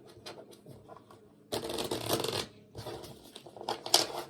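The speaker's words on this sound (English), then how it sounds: "If these cards will shuffle." Tarot cards riffle and shuffle in a few bursts, with brief handling pauses in between, close and fairly quiet.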